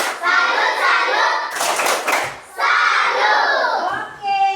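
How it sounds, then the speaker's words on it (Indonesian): A classroom of children does the rhythmic 'tepuk salut' clapping cheer, bursts of patterned hand claps mixed with loud chanting voices and a teacher leading, close and energetic. "kita berikan tepuk salut dulu buat Oce"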